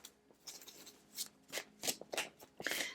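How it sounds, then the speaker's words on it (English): A deck of oracle cards is shuffled by hand, producing soft, quick riffling and sliding bursts in irregular bunches, close but faint, with no talking. "As I shuffle, 3 cards will fall out of the deck for us."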